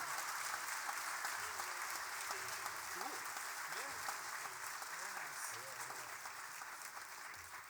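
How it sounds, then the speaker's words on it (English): A concert audience applauds in a steady, sustained wash of clapping, with voices and cheers audible beneath it as it tapers slightly at the end. "Let's give them one big round of applause."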